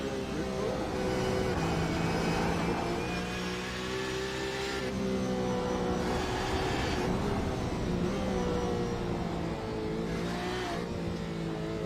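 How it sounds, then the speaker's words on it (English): GT1 and GTE race car engine downshifting at Barber Motorsport Park, with a red Ferrari nearby: loud, close engine note that drops through the lower gears in stepped pitch changes, rising again between shifts, with a commentator talking over it. "A little downshift."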